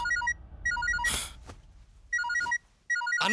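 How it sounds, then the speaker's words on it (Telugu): A phone's melodic ringtone plays a repeating electronic tune in short bursts with pauses between, fairly clear with other faint sounds between the rings. "Anna phone ring అవుతుందన్నా"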